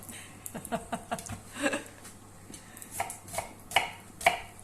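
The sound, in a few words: onions being chopped with a knife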